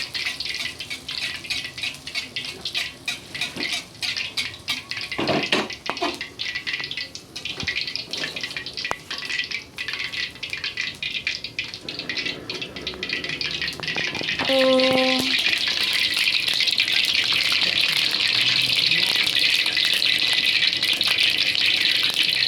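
Kue kucur batter frying in hot oil at a village cooking gathering: a steady bubbling sizzle that swells louder midway and continues alone, with scattered clatter from utensils and the pan.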